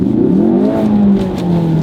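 Ford Focus RS engine revving hard to about 6,000 RPM in first gear on a snowy winter drive, a loud sustained roar whose pitch climbs and then eases back slightly, heard from inside the car.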